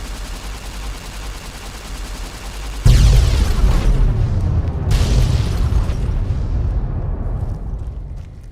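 A nuclear blast set off by a laser detonator in Fallout: New Vegas erupts with a sudden loud boom, then a long rumbling roar and crackle that slowly fades, with a second surge partway through.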